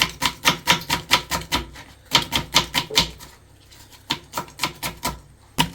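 A knife chops onion on a cutting board in a kitchen during biryani-style semiya prep, rapid rhythmic bursts of close, crisp taps separated by short pauses, with no talking.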